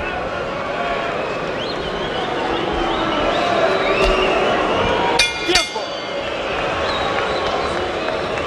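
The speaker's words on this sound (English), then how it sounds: "as the crowd here gets restless in the mid portion of the phony war" A restless crowd at the Orlando Salido versus Juan Manuel Marquez boxing match fills the arena with a steady murmur, with a few sharp shouts and whistles rising above it partway through.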